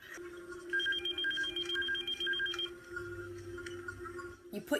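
A telephone rings in a steady repeating pattern at moderate loudness, with no voices over it and a brief clatter at the end.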